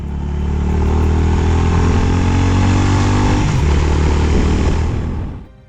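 Honda H'ness CB350 motorcycle with a long-stroke engine thumps and roars loudly and steadily throughout, a dense throbbing engine note that holds close and strong before fading away at the very end.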